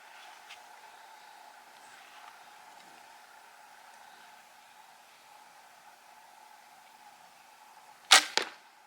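An arrow loosed from an injury bow smacks into a target with a sharp double impact after a long stretch of faint steady hiss.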